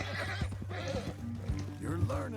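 A horse in Red Dead Redemption 2 whinnies loudly while hooves clip-clop close by, with a voice speaking over the sounds.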